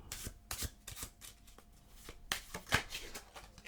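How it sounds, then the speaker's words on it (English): A deck of playing cards is shuffled several times, with quick riffling bursts and soft slaps, close and fairly loud. "Get them to give the deck a good shuffle."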